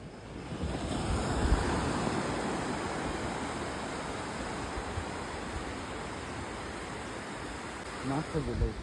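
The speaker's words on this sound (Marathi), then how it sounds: "पाणी नाही दिसणार तुम्हाला इथं, पाणी जवळ. आवाज ऐका फक्त." Sea waves at Kashid Beach, Alibag, a continuous broad roar of surf with wind buffeting the microphone, rising and falling slightly, with a voice briefly near the end.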